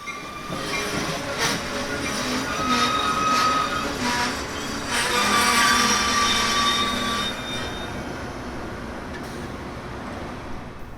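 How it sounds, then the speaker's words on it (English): An eastbound Metra commuter train pulls into Downers Grove station during rush hour, with rolling rumble, clacking wheels and high brake squeals as it slows to a stop. It is fairly loud and close, and no one speaks. "As rush hour begins to wind down, an eastbound stops at the station to pick up passengers bound for Chicago."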